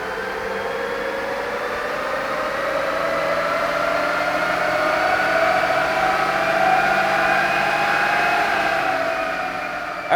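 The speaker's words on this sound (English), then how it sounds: "it's time to run this thing on our dyno and see what we can do" A 2022 Toyota Tundra with an aftermarket tuning box installed, running on a dyno, gives a sustained engine whine that climbs steadily in pitch through a long pull, fairly loud and unbroken, with no talking.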